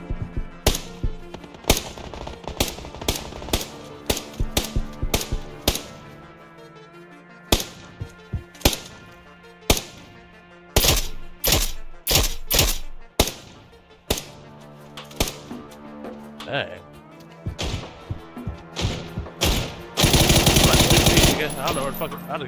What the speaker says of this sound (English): Someone was just shooting at us